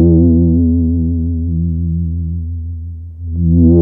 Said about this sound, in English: the first channel is from a bubble sound uLFO, which is going through Immutable Instruments ripples